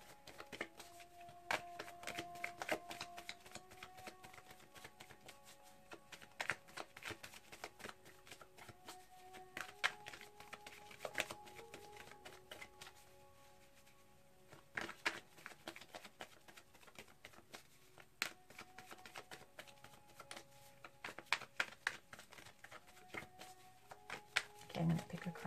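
Tarot cards being shuffled in a love reading, soft riffling and tapping bursts repeating through the clip, faint and close, with a steady tonal hum underneath and no clear talk.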